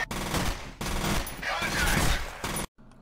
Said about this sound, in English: Civvie 11 shot at him at the back and, you know, shot him on the legs